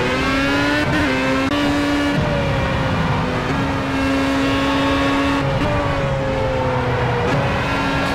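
Formula A race car engine lapping Silverstone in Project CARS, a loud high-revving open-wheel whine that climbs and drops sharply with gear changes and braking, constant and close, with no voices.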